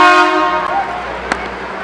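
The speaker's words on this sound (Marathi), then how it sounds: "आणि इथे समोरून एक टॉय ट्रेन." Horn of the Matheran toy train on a hill-station route, a sustained harmonic toot that fades over nearly two seconds, with a brief sharp click partway through, heard alone without talk.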